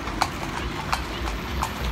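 Horses' hooves clip-clop on a street in Antalya, with sharp, evenly spaced strikes about every two-thirds of a second over steady outdoor traffic noise and faint background voices.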